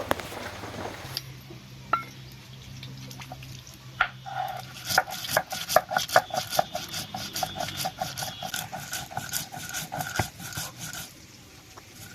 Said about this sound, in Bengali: এখানে আমি 1 চামচ কালো সর্ষে, 1 চামচ সাদা সর্ষে, 2টো কাঁচা লঙ্কা নিয়েছি, এগুলো বেটে নেব